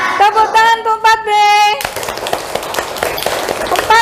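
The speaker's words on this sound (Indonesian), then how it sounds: "Tepuk tangan untuk 4B." A class of students applauding for class 4B during a school lesson, with a burst of clapping following a sung or voiced tone, continuing as scattered, lively hand claps with voices mixed in.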